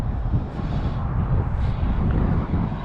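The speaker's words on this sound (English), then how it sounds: "So, pretty freaking windy out here," Strong, steady wind roars over a lake, buffeting the microphone with a dense, unbroken low rumble throughout and no talking.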